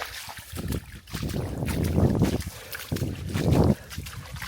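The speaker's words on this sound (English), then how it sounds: "It's nice just plodding around and splish splashing." Feet splashing and plodding through a shallow stream on a hot day near Mui Ne, Vietnam, in bursts of close watery sloshing with light wind noise on the microphone.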